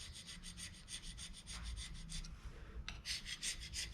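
Hand scraper working across a cast iron grinder table, repeated short rasping strokes in a steady rhythm with a brief pause partway through, close but quiet, no voices.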